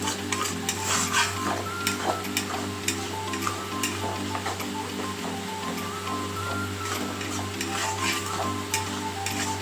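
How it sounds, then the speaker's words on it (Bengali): Tomato paste frying with spices in a pan for a vegetarian cauliflower and potato curry, with a steady sizzle and stirring scrapes throughout over faint background music. "টমেটোর পেস্টটা দিয়ে ভালো করে কষিয়ে নেব।"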